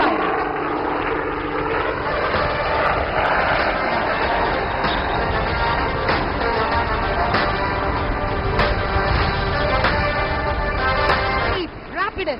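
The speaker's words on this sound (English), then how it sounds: "And there it is, the tail-up hover, showcasing the razor-sharp response and control power available to the pilot." Steady roar of an aircraft engine during a tail-up hover at the Aero India air show in Bangalore, loud and continuous throughout with a commentator talking over it.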